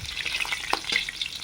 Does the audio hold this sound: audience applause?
no